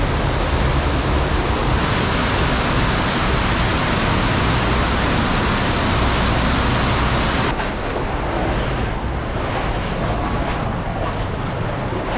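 Loud, constant roar of rushing water from a waterfall in a cave fills the whole stretch, a dense wash of noise with no voices.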